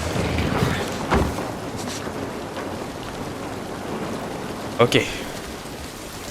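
Steady rain in The Last of Us video game, a constant hiss with a few sharper splashes, while a player talks over it.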